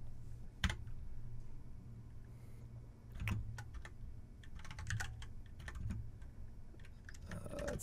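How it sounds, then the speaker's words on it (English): Loud computer keyboard typing with irregular bursts of key clicks and clacks, close and steady throughout, with no voices. "My keyboard's probably really loud"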